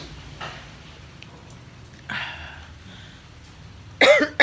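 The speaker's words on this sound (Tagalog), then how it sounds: "Tuyong-tuyo naman yung ubo ko." A single dry cough bursts out sharply near the end, preceded by a few softer breathy throat sounds against a quiet indoor background.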